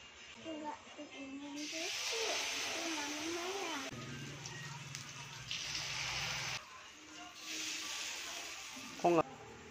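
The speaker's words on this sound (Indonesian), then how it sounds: "Setelah itu kita goreng bakwannya." Bakwan vegetable fritters sizzle in hot oil with a steady hissing fry, close by, while a voice talks over the cooking sounds at times.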